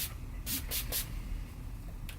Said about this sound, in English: I am going to use this Urban Decay setting spray